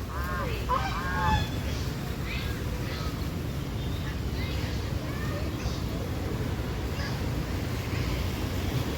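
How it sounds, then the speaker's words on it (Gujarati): Birds at a zoo honking in goose-like calls, several bursts near the start and scattered fainter honks afterward over steady wind-like rumble. "આ બધા પક્ષી છે."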